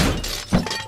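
Memory object shattering in Kill It with Fire: Ignition, a quick, close glassy break with a brief crunch and tinkling tail, heard alone.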